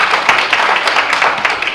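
A crowd of attendees at a disaster-relief policy forum claps for an incoming speaker, a dense, close burst of applause with individual hand claps audible, brief and steady with no talk over it.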